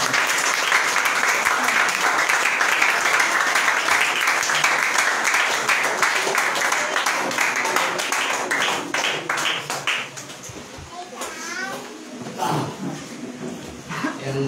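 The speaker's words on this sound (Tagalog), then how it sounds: "Yung malakas na palakpak sa ating Panginoon." Congregation at a church service gives loud applause for the Lord, dense clapping that thins into scattered claps and cheers near the end, with voices and a dog barking briefly.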